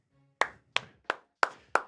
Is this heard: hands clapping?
yes